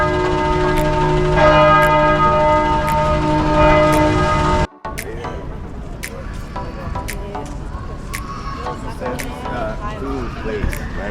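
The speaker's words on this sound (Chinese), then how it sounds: "还用钟声在迎接我。" Church bells in Budapest ring loud and sustained with rich, layered tones, then cut off and give way to open street ambience with people talking nearby and faint clatter.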